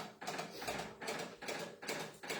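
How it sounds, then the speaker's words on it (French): A home heating system runs with a regular mechanical pulsing, about four evenly spaced whirring bursts that repeat close by and at moderate volume, with no voices. "Ça c'est le chauffage."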